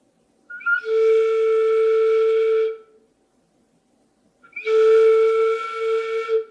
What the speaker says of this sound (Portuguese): Treine também fechando aqui a flauta. Assim, ó. Vai sair uma nota diferente.